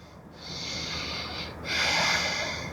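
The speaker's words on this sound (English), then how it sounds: "Inhale and exhale. Stay here, continue breathing." Audible breathing during a yoga balance flow, two long airy breaths close to the microphone, a brief pause between them, with no talking.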